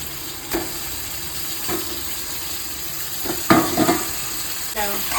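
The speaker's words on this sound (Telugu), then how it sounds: "ఇప్పుడు ఇవి గోలిన తర్వాత ఇక్కడ ఆయిల్లో వేసుకోవాలి" Fish pieces dropped into hot oil in a home kitchen, with salt and chili, sizzling and frying steadily, with a few stirring clatters and bursts of spattering.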